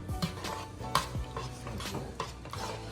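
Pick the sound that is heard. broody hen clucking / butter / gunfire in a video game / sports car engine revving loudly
butter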